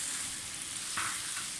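Ground spices and carrots fry in a pan with a steady, close sizzle and crackle that holds evenly throughout, with a brief louder flare near the middle.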